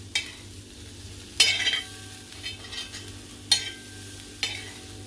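Cauliflower fries on a tawa and is stirred with masala, giving a soft continuous sizzle punctuated by several sharp metal scrapes of a spatula against the pan.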